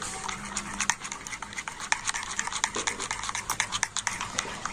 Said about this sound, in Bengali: লবণটা দিয়ে ব্যাটারটাকে আবার একটু ফেটিয়ে নিচ্ছি